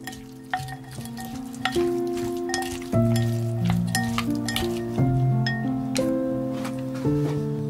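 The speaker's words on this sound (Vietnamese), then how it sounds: "trộn đều cho thịt thấm gia vị" Marinated pork belly is mixed with seasonings, with repeated bright clinks of a utensil against a bowl over a steady backdrop of tonal music.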